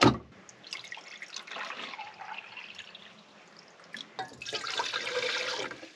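Hot water for cup noodles pours in a steady, splashy trickle at a dispersed campsite. A clunk at the start, then a quieter stretch before a louder rush of pouring near the end.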